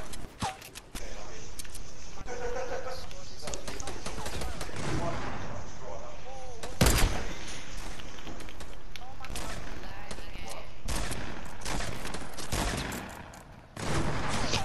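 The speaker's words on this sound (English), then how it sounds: "Whoa, I'm getting shot at." Sustained gunfire in the Fortnite battle royale video game, a long burst of rapid shots with one especially loud blast near the middle, while players talk over the shooting.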